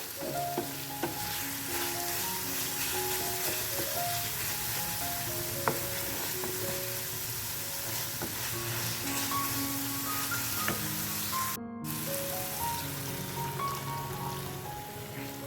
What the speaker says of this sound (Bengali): সামান্য একটুখানি জল অ্যাড করবো আমি এতে যাতে গ্রেভিটা একটু নরম হয়ে যায়